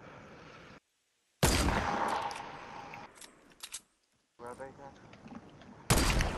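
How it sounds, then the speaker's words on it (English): A distant gunfight in the battle royale game Fortnite plays out as bursts of rapid gunfire separated by silent gaps, with a few sharper close shots, under a player talking. "They are having a gunfight of their own?"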